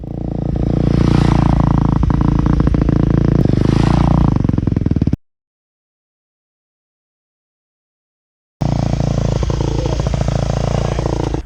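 A dirt bike engine with a newly fitted oversized rotor runs loud and close, revving up and down twice. It cuts out abruptly for a few seconds, then runs again at a steady rev.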